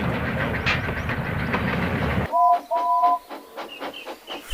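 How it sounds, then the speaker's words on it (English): A steam engine pulls a train into a big station in a Thomas the Tank Engine fan animation: a steady rolling rumble gives way to quieter station sounds with metallic clanks, short whistle tones and birdsong, with no talk. "dragging Henry and his train into the big station"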